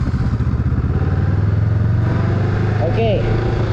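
A Honda Rebel or Kawasaki Ninja motorcycle pulls away from a stop as the clutch is released and the throttle opens, its engine note rising steadily from a rumbling idle, loud and close, with a voice speaking over it.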